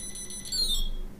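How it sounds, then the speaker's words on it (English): A fridge's door-open alarm sounds a short high electronic beep, faint and alone in a quiet room. "Oh, there we go, that's the alarm."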